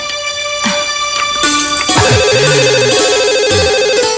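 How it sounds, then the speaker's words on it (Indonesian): A telephone ringtone plays at close range, a steady electronic melody with repeating tones that runs through the whole stretch, indoors in a home scene of an Indonesian TV drama. "Wak mau ngangkat telepon dulu"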